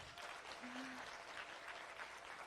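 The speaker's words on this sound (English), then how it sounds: "clap it up for these beautiful people." Applause from an audience at a Read Brave Talk Brave event, a steady wash of clapping that fills the whole stretch at a fairly soft, even level, with a brief tone in the background.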